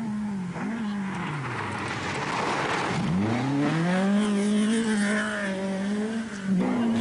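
Group B rally car attacking a corner at the 1985 Acropolis Rally, its engine loud and close, dropping sharply in pitch as it brakes for the turn, then climbing hard again on the exit.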